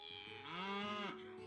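A cow on a farm in the video game Potion Permit gives a single clear, drawn-out moo lasting about a second, alone and close.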